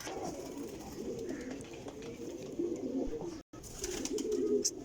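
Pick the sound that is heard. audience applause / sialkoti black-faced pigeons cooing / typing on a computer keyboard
sialkoti black-faced pigeons cooing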